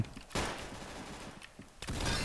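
Rapid bursts of automatic gunfire in a video game, loud and dense, with a short pause between two volleys.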